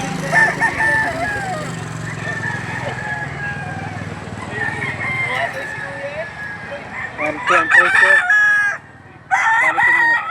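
Roosters crow repeatedly at a gamefowl market in Lipa City, Batangas, where Sweater Boston line birds are sold. Several fairly close calls overlap the busy market chatter, and people talk throughout.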